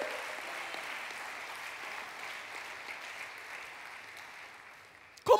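A church congregation applauds Jesus with steady, even clapping that fades slowly, followed by a brief louder clatter at the very end.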